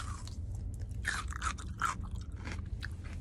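Crisp pristine grapes being bitten and chewed close up, several sharp wet crunches in quick succession over a low background hum, with no talking.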